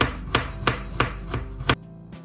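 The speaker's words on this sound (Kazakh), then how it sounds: "Енді чесногымызды майдалап турап аламыз. Мен пышақтың көмегімен тураймын." A knife chops garlic on a board in five evenly spaced, loud, crisp knocks about a third of a second apart, close to the listener, then stops.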